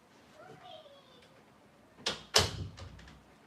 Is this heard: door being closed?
yes